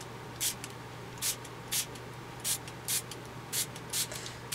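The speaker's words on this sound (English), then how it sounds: "And this time, I'm going to mist it." A handheld mister sprays water over paint on an art journal page in quick separate hissing puffs, around eight spaced bursts, close up above a quiet steady hum.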